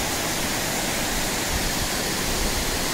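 Chirchiri waterfall in Jashpur, Chhattisgarh pours with a dense, loud, unbroken rush of falling water filling the whole clip, steady and close, without any voices.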